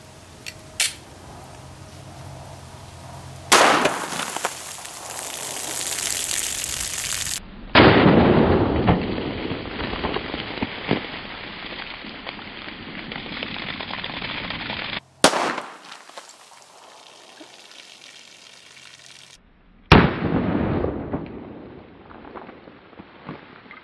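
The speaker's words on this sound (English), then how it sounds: "let's go ahead and see what a G2 rip round does to our orange soda here" A 9mm G2 Research RIP hollow-point round fired into a bottle of orange soda, with several loud, sharp gunshot cracks spaced through the clip, each followed by brief echoing and spraying noise.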